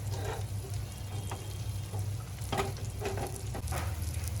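Surmai (kingfish) steaks fry in a hot pan with oil, giving a steady, close sizzle that crackles on without a break, with a few sharper spits and pops along the way.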